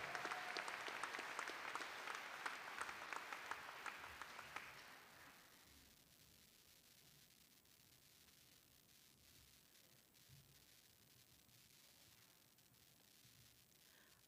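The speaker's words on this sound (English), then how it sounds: "let's have a nice round of applause for the Gophers" Applause for the graduating class of 2023 at a Glen Burnie High School commencement: a large crowd claps loudly and steadily for about five seconds, then cuts off abruptly into quiet room tone.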